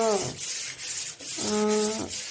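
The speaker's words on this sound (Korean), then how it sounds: "흠집난 부분을 메워준 핸디코트를 곱게 사포 작업해 주세요" Handy Coat filler patching scratches on an old vanity table is smoothed with a 220-grit rubber sanding block, steady back-and-forth rasping in two close strokes with a faint squeaky whine riding on each pass.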